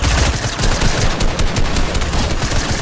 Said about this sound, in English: I used the shotgun to get him.